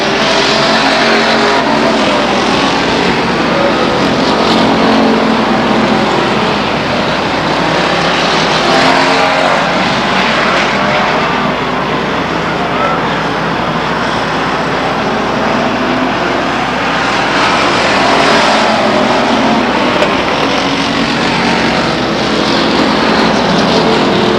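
Race cars circle Stockton 99 Speedway, their engines roaring loud and continuous, layered into a dense, unbroken wall of sound with slight swells as cars pass.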